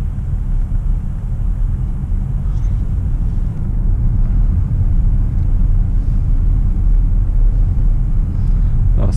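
Jaecoo J7 car driving on the road, a steady low engine and road rumble filling the cabin continuously, with no talk.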